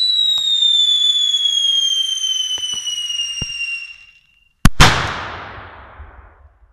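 A long whistling hiss descends for several seconds, falls silent, then one sharp, powerful titanium salute firecracker blast booms nearby and echoes away.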